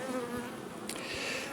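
Honey bees buzz around an open beehive, a soft continuous hum of many insects close to the microphone with a few louder passing wingbeats.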